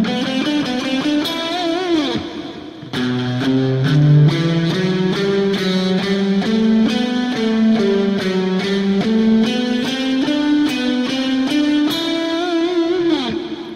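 A clean, picked electric guitar lick in a solo lesson, a steady run of distinct notes starting on a downstroke, played alone and close with a little effect coloring.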